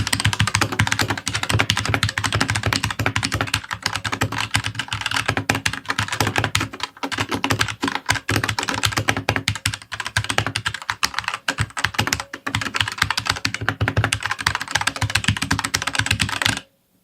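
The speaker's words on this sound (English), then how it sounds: "This one is a little bit louder because it is a mechanical keyboard." Rapid, steady typing on a Marvo KG962W mechanical RGB keyboard, dense clacking keystrokes recorded close up for about sixteen seconds, then stopping abruptly, with no talking.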